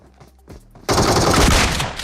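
Rapid automatic gunfire from a PUBG Mobile scrim match bursts in loudly after a quiet lead-in, a dense sustained volley continuing to the end with no talk over it.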